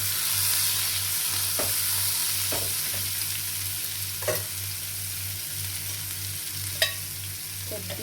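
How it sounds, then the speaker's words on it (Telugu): Boiled black-eyed peas frying and sizzling in a pan, with a steady broadband hiss and a few distinct scraping stirs of a spoon against the pan; no talking. "ఇప్పుడు ఇందులో మనం ఉడికించుకున్న ఈ అలసంద గుగ్గులన్నీ ఇందులో వేసేసుకుందాం"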